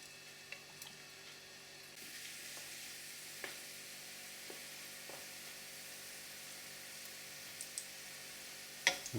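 Chicken of the woods mushroom cooking slowly in a lidded pan: a soft, steady sizzle that gets a little louder after the first couple of seconds, with scattered faint clicks and light pops, ending in a brief clatter.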